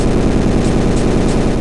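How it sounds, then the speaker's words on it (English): Bakugan Cross Attack in a Bomberman game, a loud, steady, machine-gun-like burst of rapid repeated blasts that runs without a break for under two seconds. "Bakugan Cross Attack sounds like a machine gun"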